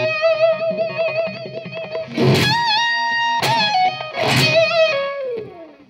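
An electric guitar plays a blues rock lick, with sustained bent notes, sliding pitches and two sharp strummed accents, clear and close with no talking.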